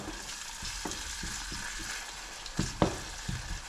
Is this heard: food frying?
yes